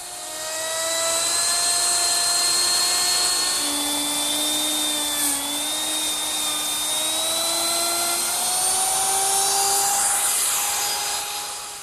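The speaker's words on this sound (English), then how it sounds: "I use my router with a laminate trimming bit" Router fitted with a bearing-guided laminate trimming bit trimming laminate along a wooden oak vanity top: a continuous high-pitched motor whine with shifting tones as it cuts, loud and close, running steadily for the whole stretch without talk.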